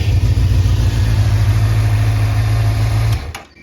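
A Honda CBF600 motorcycle engine idling with a loud, steady low rumble close by, holding even for about three seconds before cutting off abruptly into quiet.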